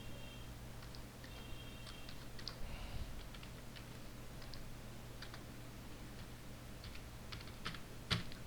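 HTML code typed on a computer keyboard produces soft, irregular key clicks in short bursts, close and fairly quiet over a low steady hum, with no talking.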